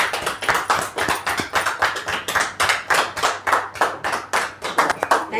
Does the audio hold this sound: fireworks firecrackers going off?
no